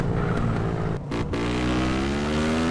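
A car in GTA San Andreas revs hard, cuts out briefly for a gear change, then its engine note climbs steadily again, loud and close.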